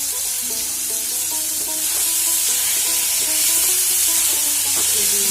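Chopped tomato and a little ginger frying in a pan, a loud steady sizzle hissing throughout while a spatula scrapes and stirs in irregular strokes close by.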